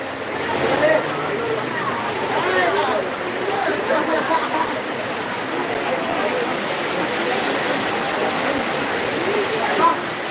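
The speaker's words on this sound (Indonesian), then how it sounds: "hujannya sudah semakin menderaskan diri" Heavy rain pouring down in a steady, dense hiss at an outdoor gathering, continuous throughout while people talk over it nearby.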